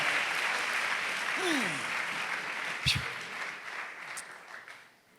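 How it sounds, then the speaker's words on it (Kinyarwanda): Loud, sustained applause from a church congregation during praise, with dense clapping that swells and holds, a brief raised voice or whoop rising over it, and a sharp knock partway through. "Reka dushime Imana dukoma amashyi menshi muri kino kibanza."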